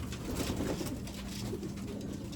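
Racing pigeons coo softly and continuously close by, a low murmuring under faint background noise.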